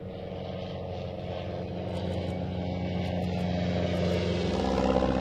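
A de Havilland Chipmunk propeller plane's engine drones steadily, its low, even hum swelling a little as it goes on, with no talking.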